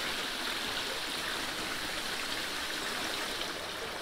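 Water runs steadily in a trout hatchery tank, a constant rushing hiss with a faint gurgle, close and unchanging throughout.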